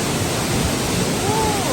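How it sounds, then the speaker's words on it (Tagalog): A big waterfall in the Welsh waterfall country gives off a dense, steady rush of water, loud and constant throughout the short stretch. "Ang laki ng falls."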